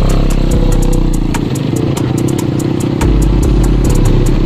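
A group of motorcycles, a Yamaha Aerox pair and a Suzuki Raider among them, revving and pulling away together, loud close engine roar with rising throttle blips and a deeper surge near the end.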